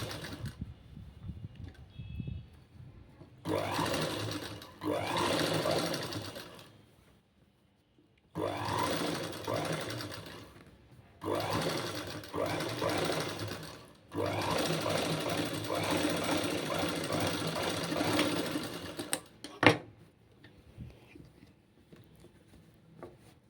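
A sewing machine stitches a boat neck blouse in several loud bursts of steady whirring, with short quiet pauses between runs.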